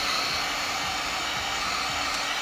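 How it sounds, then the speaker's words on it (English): A heat gun blows a steady, loud broadband roar while drying a coat of paint on a decorative tray, holding constant and close for the whole moment with no talking. "I hit it with the heat gun just real quick"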